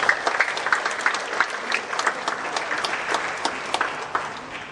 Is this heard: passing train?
no